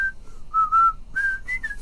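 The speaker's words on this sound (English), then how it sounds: "Boy, even drunk I can whistle." A person whistles a short melodic phrase, clear and close, in a few sustained and sliding notes with brief gaps between them, alone with no talking.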